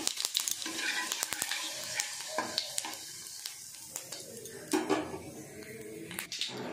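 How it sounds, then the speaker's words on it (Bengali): Whole cumin, two dried chillies and three bay leaves frying in hot oil in a pan: a steady close-up sizzle with crackles, occasional stirring scrapes and clinks of a utensil. No one talks. "এবার আমি তেলে গোটা জিরে, শুকনো লঙ্কা 2টো আর তেজপাতা 3টে দিয়ে দিচ্ছি।"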